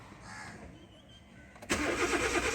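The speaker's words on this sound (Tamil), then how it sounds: "வண்டி கிராங்க் ஆகுது, ஸ்டார்ட் ஆகலை." A Hyundai car with a suspected ECM fault, ignition on with the EPS and oil warning lights lit, cranks but fails to start. The starter begins abruptly after a quiet lead-in and keeps churning loudly and evenly to the end, close by.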